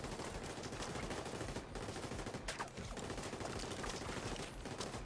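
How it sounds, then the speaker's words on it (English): Dense, sustained gunfire from enemies in Tom Clancy's The Division 2, set in New York, rattles continuously as a heavy fusillade at moderate distance, with no voices over it. "They just started shooting"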